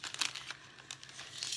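Paper and craft materials crinkle and rustle in short, uneven bursts close by while journal covers and a taped hinged spine are handled, with no talk.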